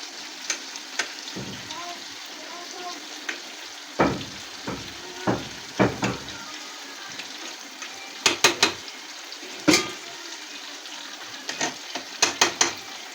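Fish topped with tomato fries in a pan with a steady low sizzle, broken by sharp crackles and pops at irregular intervals, close and fairly loud.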